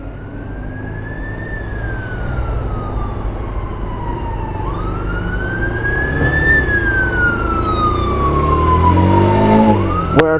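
An emergency vehicle siren wails in slow rising and falling sweeps over a rumbling truck engine, growing gradually louder as it approaches, with a sharp burst near the end.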